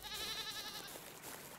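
A goat in the El Conde Lucanor video game gives one short, wavering bleat at moderate volume, trailing off over about a second.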